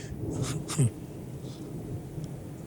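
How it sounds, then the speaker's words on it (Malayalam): Rain falls with distant thunder: a low, faint rumble and a soft wash of rainfall, with a couple of brief louder bursts near the start, all fairly quiet. "മഴയും വരണല്ലോ."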